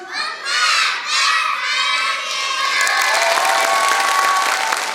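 Young preschool children shout together loudly at a daycare recital show, chanting in short bursts as a crowd, with cheering voices overlapping and some background clapping toward the end.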